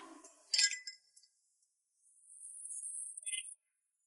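A few bright glassy clinks of glasses meeting in a toast near the start, then a faint high ringing tone that fades out, with quiet room sound at the beginning.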